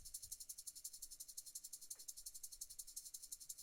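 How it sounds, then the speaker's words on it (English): Shaker track from a drum mix, a dry rattlesnake-like hiss pulsing in steady fast sixteenth-note rhythm, bright and close, playing alone. "Next, we'll move on to this shaker track"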